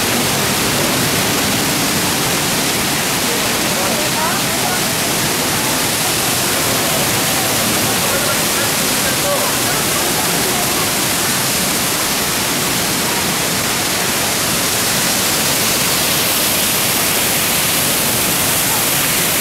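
The Düden waterfall in Antalya, Turkey, heard from outside as a loud, unbroken broadband roar of falling water, steady and close throughout.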